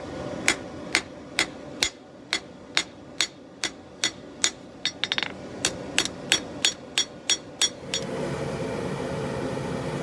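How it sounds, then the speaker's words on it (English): Hammer blows strike the bevel of a Scottish dirk being forged from an old file, about twenty sharp metallic rings in a steady, fairly quick rhythm, close and distinct, ending in a low steady hiss. "as we're hammering in the bevel"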